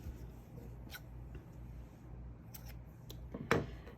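Scissors snip crochet yarn to finish a star motif, a couple of faint quick cuts over a low background hum, the sharpest one near the end.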